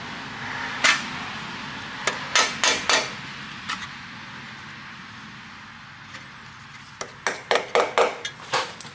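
A hammer strikes a center punch on a small block engine part, likely near the water pump, in bursts of sharp metallic taps. There is a cluster early on, then a quieter pause, then a quick run of six or so hits close by.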